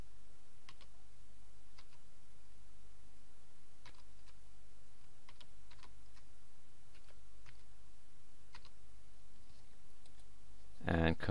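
A password is typed on a computer keyboard as a sparse run of light, irregular key clicks, close and fairly quiet against a steady hiss, ending with a louder thump.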